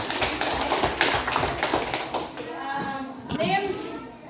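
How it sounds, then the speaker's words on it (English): Children in a classroom clap their hands in a quick run of sharp, close claps, with a voice talking over and after them as the clapping fades. "Clap your hands."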